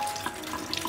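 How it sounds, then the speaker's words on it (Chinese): Tap water runs over a block of tofu being washed in a kitchen sink, a brief, faint splashing trickle. "豆腐也洗一下"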